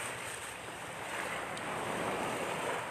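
Waves crash and wash steadily onto a shoreline in calm weather, a continuous near, full roar of surf with light wind noise and no voices.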